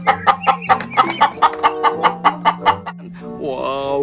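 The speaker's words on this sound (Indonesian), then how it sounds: "Ini ayam betina" A hen clucks in a quick series of about a dozen sharp, evenly spaced clucks close by, ending in a drawn-out, rising squawk.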